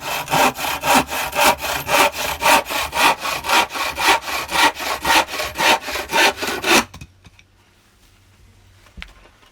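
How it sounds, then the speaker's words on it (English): A hand saw cuts through a wooden branch for a bow drill spindle in steady, rhythmic back-and-forth rasping strokes, loud and close, before it stops and leaves only faint handling sounds. "To make a spindle, you're going to start by cutting."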